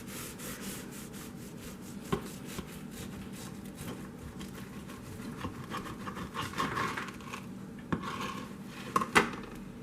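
A knife saws back and forth through a loaf of homemade chocolate chip yeast bread that has not fully cooled, making soft, steady rasping strokes with a few sharper knocks near the end.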